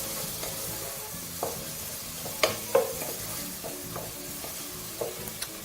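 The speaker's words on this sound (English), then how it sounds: "the idea is to just continue frying this" Tomatoes sizzle and fry quietly in a pan, with occasional clinks and scrapes of stirring.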